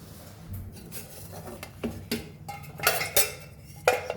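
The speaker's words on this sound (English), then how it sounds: "At this point we will add our potatoes and the trotters." Potatoes and mutton trotters go into a cooking pot with a series of clattering knocks and metallic clinks from utensils and pot, close and sharp with irregular spacing.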